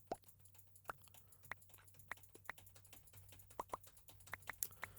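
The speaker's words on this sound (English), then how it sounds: "You can probably hear me furiously clicking the 5 and 6 keys on my keyboard." Computer keyboard keys clicked rapidly and irregularly during a modded Minecraft session, sharp close clicks in quick bursts over a quiet low hum, with no talking.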